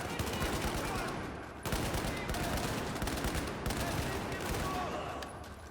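Heavy gunfire in the Battlefield 4 campaign, a dense, continuous clatter of rapid shots and bursts layered over a roaring battle din, loud and sustained throughout with a sharp jump in intensity partway through.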